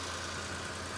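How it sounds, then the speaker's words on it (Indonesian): Idle of a 2011 Nissan March 1.2 three-cylinder engine with automatic transmission, a steady low hum with a faint periodic throb and no roughness, holding even and close throughout. "Dan ini suara mesinnya."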